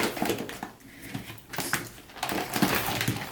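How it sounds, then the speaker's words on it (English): Clattering and scraping of objects being moved across a table, with intermittent knocks and rustles at close range, no talking. "excuse the noise of trying to clear the table off"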